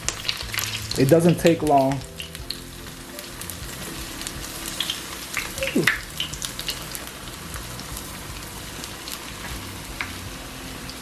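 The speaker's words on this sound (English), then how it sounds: "begin to flip them on their side, because these will cook very quickly" Vegan, gluten-free broccoli bites frying in a pan, a continuous close sizzle with a short remark spoken near the start and a brief clatter midway, the crackle carrying on alone afterward.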